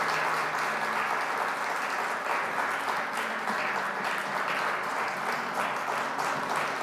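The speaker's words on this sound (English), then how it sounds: "can you clap your hands as a sign of praising the Lord?" A church congregation in an auditorium claps to praise the Lord, a sustained, dense wave of many hands that stays even and continuous throughout, with no talking over it.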